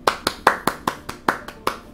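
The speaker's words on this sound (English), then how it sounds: "Clap for everybody in the comments." One person clapping hands at a steady pace, about nine sharp claps across two seconds, each a crisp close slap that rings briefly, with no voices heard.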